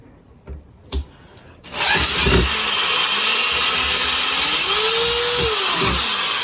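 A few light knocks, then a power drill starts up and runs at a steady high whine, its pitch rising slightly as it bites into a metal bracket on a Triumph 1200XC Scrambler motorcycle.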